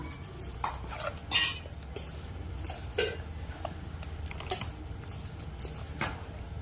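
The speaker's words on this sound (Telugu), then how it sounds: "పై పైన ఒకసారి అంతా కలవడానికని కలిపేసాము" A spoon gently mixing amla (Indian gooseberry) pickle with roasted cumin powder in a dish, giving faint scattered clinks and soft scraping taps of metal against the container, with quiet squishy stirring between them.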